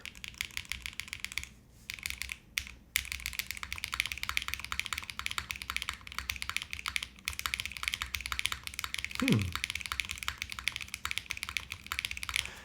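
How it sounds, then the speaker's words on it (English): Steady keyboard typing, a continuous run of quick, close clicks and clacks with brief pauses, plus one small dull knock near the end. "Let me keep typing."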